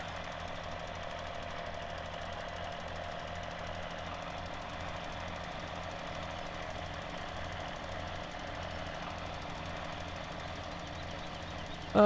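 John Deere 4630 tractor engine in Farming Simulator 17, a steady rapid diesel knock at constant volume running on alone, with a brief bump at the very end.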